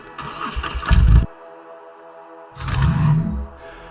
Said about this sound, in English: use the sound file of an engine starting as soon as you click to progress